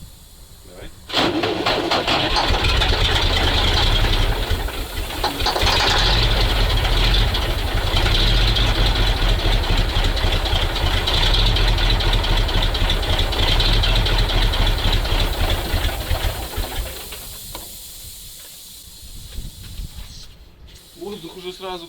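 A MAZ truck diesel engine, left in storage for 15 years, cranks and catches with a loud hissing roar, runs rough and loud for about fifteen seconds, then drops toward a softer idle; someone speaks briefly.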